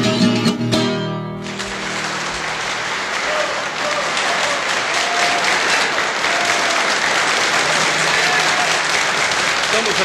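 Audience at a live sertanejo music show breaking into loud sustained applause as a song's final notes end, a dense wash of clapping from a large crowd that continues steadily.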